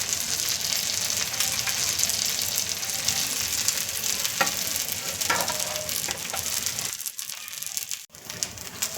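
An egg mayonnaise cheese sandwich toasts in butter on a pan and is flipped, a loud, close, steady sizzle with crackling pops that briefly drops out near the end before resuming.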